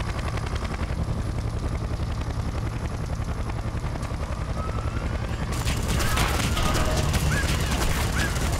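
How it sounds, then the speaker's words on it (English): A helicopter attacks in the video game Splinter Cell: Conviction. Its loud, steady rotor drone runs throughout, and dense bursts of gunfire break out in the latter half. "I'm taking fire from that chopper."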